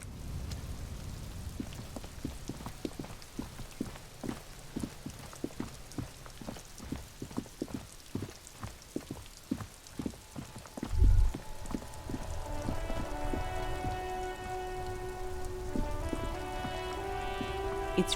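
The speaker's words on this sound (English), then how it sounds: "It's raining." Rain patters steadily in the video game Disco Elysium, with regular footstep-like thuds throughout; a brief bump comes midway, then soft game music rises under the rain.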